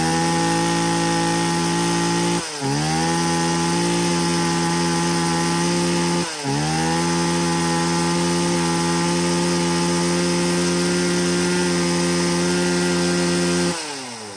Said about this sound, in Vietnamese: một chiếc máy cưa đời đầu